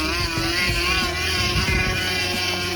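A homemade attachment on a bicycle wheel makes a loud, continuous motorcycle-like engine drone with a buzzing, rattling texture while the bike is ridden, heard close up with no talking.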